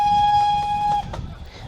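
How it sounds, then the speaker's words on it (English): A British Rail train horn, heard from inside a Mark I carriage, sounds one loud, steady, bright tone for about a second, then cuts off, leaving the low rumble of the moving carriage. "the horn doesn't sound like a Class 31"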